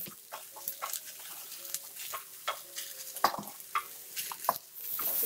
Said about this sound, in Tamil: இப்படி ஸ்லோவிலேயே கொஞ்சம் நேரம் நல்லா வதக்கணும்.